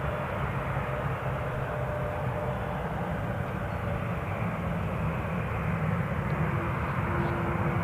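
A KLM airliner departs from Newcastle International Airport, its jet engines a distant, steady roar that holds evenly throughout.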